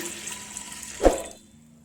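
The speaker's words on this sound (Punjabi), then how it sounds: "ਦਾਲ ਦੇ ਵਿੱਚ ਆਪਾਂ ਪਾਣੀ ਪਾ ਦੇਵਾਂਗੇ ਇੱਥੇ ਮੈਂ ਚਾਰ ਕੋਲੀਆਂ ਪਾਣੀ ਦੀਆਂ ਨਾਪ ਲਈਆਂ ਸੀ" Water is poured into a pressure cooker holding chana dal, heard as one quick splash that peaks and fades over a steady low background hum.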